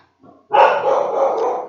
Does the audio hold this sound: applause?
no